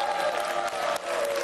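A studio audience applauds at a Bulgarian VIP Brother 2015 reality show, a dense steady wash of clapping that stays loud and even throughout.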